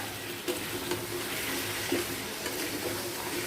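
Water goes into a pan of fried, well-cooked spice mix, and a continuous close hiss and sizzle carries on with a few soft stirring knocks underneath.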